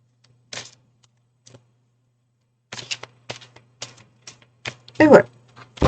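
Tarot cards are shuffled and tapped in short dry bursts, scattered at first and then coming quicker, with a voice speaking briefly between them.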